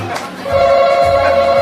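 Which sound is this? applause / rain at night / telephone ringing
telephone ringing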